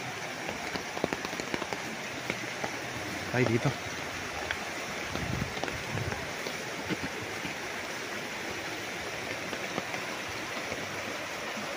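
Rain falls outdoors over a farm lot beside a river in Nagcarlan, Laguna, a steady broadband patter lasting throughout, with a person speaking briefly over it.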